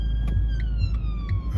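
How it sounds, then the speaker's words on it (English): Emergency vehicle sirens wailing steadily in traffic at a city junction, loud and continuous with a falling pitch sweep, over low road rumble and engine noise. "I can hear a few more blue lights coming"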